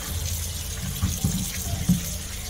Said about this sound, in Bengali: মূলোগুলো এবারে ভালো করে ধুয়ে নিচ্ছি